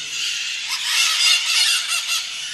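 A dense flock of parrots calling together at close range, a loud, continuous chorus of harsh squawks and chatter in a forest setting near Tingo María, Peru.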